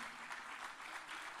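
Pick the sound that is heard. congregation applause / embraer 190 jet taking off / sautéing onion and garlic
congregation applause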